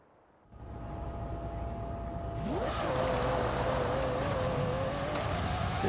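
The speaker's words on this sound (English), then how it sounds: "This vehicle is coming over towards me, forcing my hand to engage in a head-to-head with them" An engine in a video game rises out of near silence into a steady, building drone as the vehicle closes in, its whining pitch sliding upward and holding with a brief screech partway through.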